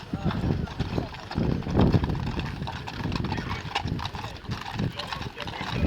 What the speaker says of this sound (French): ici vous avez des chevaux en grande tenue